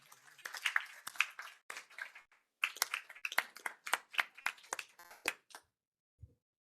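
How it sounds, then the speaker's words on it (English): A small group claps at a school governing board meeting, sparse, uneven hand claps starting and stopping in bursts, fairly close and quiet, fading out before a brief low thump at the end. "A round of applause for the family."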